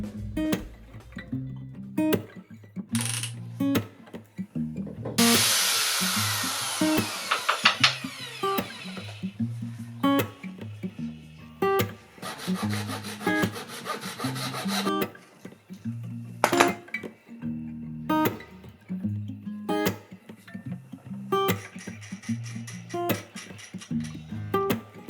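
A metal screw is sawn off by hand without a vise, giving loud bursts of scraping, rasping strokes broken by sharp metallic clinks and rattles, then pauses and shorter clattering handling noises, with no talking.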